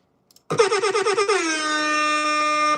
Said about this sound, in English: I'm a fan of the air horn